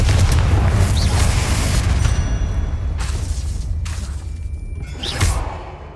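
Confringo explosion spell cast in Hogwarts Legacy, a dense rumbling boom that carries through the whole stretch, with whooshing swells and a sharper burst near the end over a constant low roar of game sound.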